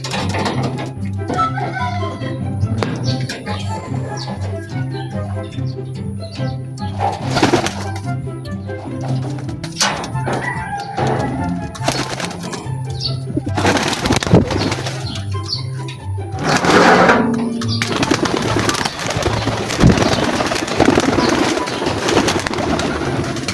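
Racing pigeons coo and flutter near an Alimodian, Iloilo loft, with steady low cooing throughout, occasional wing flaps and chirps, and outdoor background noise.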